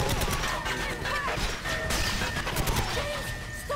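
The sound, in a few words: gunfire at the console in GoldenEye 007 Reloaded video game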